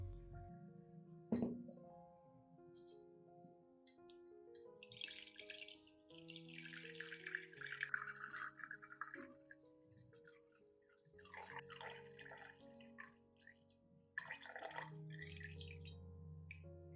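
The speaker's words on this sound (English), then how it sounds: "I filter out the grounds and keep only the clear liquid" Cooled coffee liquid drips and trickles through a filter as the grounds are strained out, with faint, irregular splashes and a thin running stream, quiet and close, and no one speaking.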